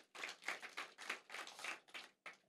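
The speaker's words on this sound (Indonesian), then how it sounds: "Yang setuju tepuk tangan bagi anak kita." A church congregation claps for a child during a worship service, a quick run of about eight separate hand claps in an irregular rhythm, fairly faint and sounding more like a small scattered group than a full crowd, with no talk over it.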